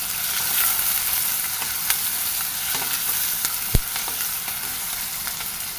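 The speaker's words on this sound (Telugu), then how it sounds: "five minutes వేగనిద్దామండి" Onions and curry leaves frying in oil as they are stirred, a loud continuous sizzle with scattered scrapes and one sharp knock of the spoon against the pan, no talking.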